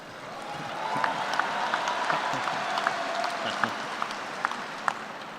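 Audience applause at a spring agriculture commencement ceremony: a steady wash of many hands clapping across a large hall, moderately loud, with a few sharper individual claps standing out and no clear speech.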